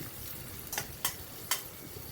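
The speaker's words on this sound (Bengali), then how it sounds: "দেখুন একটু নাড়াচাড়া করে পেঁয়াজটাকে একটু ভাজা ভাজা মতো করে নেব।" Chopped onions frying and being stirred in a pan over a high gas flame, a soft steady sizzle with a few sharp scraping stirs standing out, close and fairly quiet with no voices.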